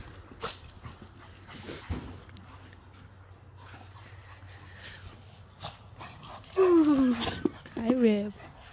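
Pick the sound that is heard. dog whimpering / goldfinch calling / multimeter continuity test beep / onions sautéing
dog whimpering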